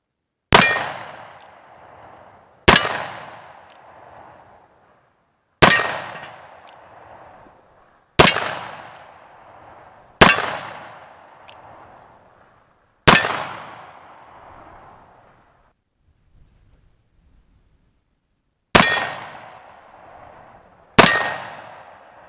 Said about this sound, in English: I'm going to try shooting them here after they're installed